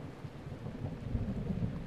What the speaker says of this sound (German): Gewitter? Tatsächlich. War es hier nicht eben noch ruhig?